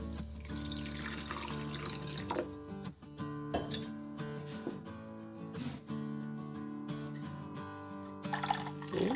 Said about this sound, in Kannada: ಈಗ ಇದಕ್ಕೆ ನೀರು ಹಾಕ್ತಾ ಇದ್ದೀನಿ ನೋಡ್ರಿ